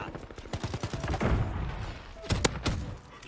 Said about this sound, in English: Two shots from the shotgun